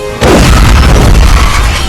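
Explosion from the Sonic the Hedgehog 2 film, a sudden loud boom bursting in after a brief silence and then rumbling on as a dense, sustained blast.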